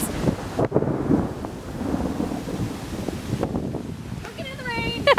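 Rain falls steadily at a campsite, a dense soft patter close by with low rumbling gusts, briefly broken by sharper knocks and a voice near the end.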